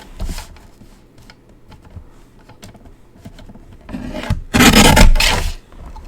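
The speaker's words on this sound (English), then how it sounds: "I'm going to trim that just so I get the same bits" Pink cardstock being trimmed for a handmade card, giving soft rasping, scraping strokes, with a loud sustained burst of cutting near the end.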